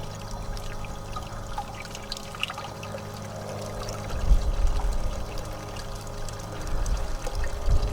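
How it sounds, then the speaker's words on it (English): Water pours steadily through a GOLDROP mixing valve as a continuous trickling rush. Low thumps and a stronger surge come in partway through as the flow is turned up. "Let's turn up the water on the mixing valve."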